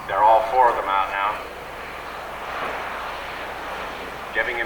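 A Helio Courier airplane approaches to land with flaps and slats extended, its engine drone steady and moderately distant, with someone talking over the start and end.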